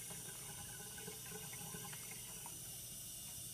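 A sink faucet runs in a care setting, a soft, steady stream of water splashing into the basin at a low level throughout, with no voices over it.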